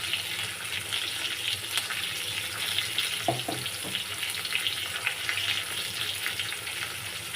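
Chopped onion frying in hot oil with cumin and coriander seeds, giving a steady close sizzle and hiss throughout with a few brief stirring clinks midway.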